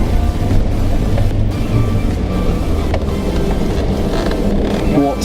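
Land Rover Defender engine revving hard while off-roading on a dirt track, a loud continuous low roar with rushing wind noise throughout, steady with slight surges.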